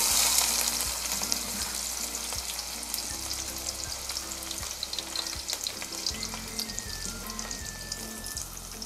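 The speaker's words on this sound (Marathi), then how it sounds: "तेल तापलंय, आता त्याच्यामध्ये कांदा टाकते।" Chopped onion hisses in hot oil in a pot for Koli-style ambushiche kanji, a continuous close sizzle with scattered pops and light utensil clicks, no talking.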